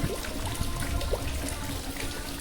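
Rainwater pours steadily into a bottle during village rain, a continuous splashing trickle with small irregular plops and no voices.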